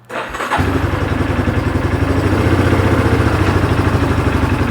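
Yamaha Terrapro ATV with a PTO fires up: a brief cranking catch, then the engine settles into a steady, loud, close-by idle putter with a fast regular pulse, no voices.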